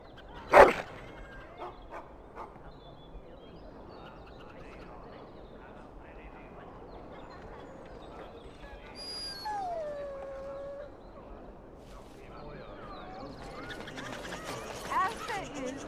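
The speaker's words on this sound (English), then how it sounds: "Puppy!" A dog whimpers and yips in Dragon Age Origins gameplay, a sharp bark near the start followed by rising, whining cries, under quiet ambient game sound and a few spoken words.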